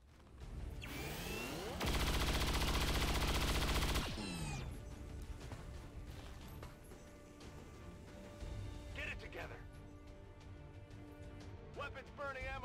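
Automatic weapons firing in XCOM 2 combat, a dense sustained burst of rapid gunfire about two seconds long, followed by scattered shots and mechanical clatter under game sounds and a voice.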